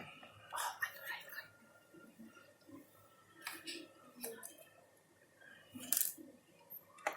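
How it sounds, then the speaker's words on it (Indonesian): Small metallic clicks and ticks of screws being undone from a laptop case, irregular and close, with faint scraping and soft handling noises in between. "Sekarang kita buka baut-bautnya ya."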